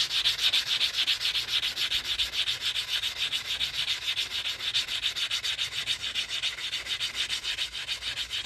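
The cut edge of an Arkansas quarter coin ring is sanded by hand, a close, continuous rasping scrape in quick regular back-and-forth strokes, alone with no talking.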